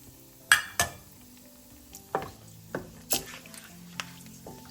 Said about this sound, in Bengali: তেলটা অলমোস্ট গরম হয়ে গেছে এখন আমি এতে দিয়ে দিব একটু তেজপাতা